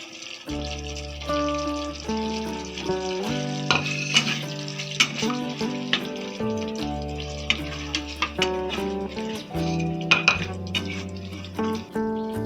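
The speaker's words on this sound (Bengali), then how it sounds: "এবার কুচিয়ে রাখা ক্যাপসিকাম গুলো দিয়ে দিচ্ছি" Chopped capsicum fries and sizzles in a pan with occasional stirring and utensil clinks, a soft steady hiss lying under prominent background music.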